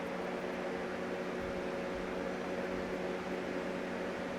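Electric fan running steadily in a room during a makeup session, a continuous even hum with a faint tonal whine and broadband air noise, close and constant throughout, with no talking.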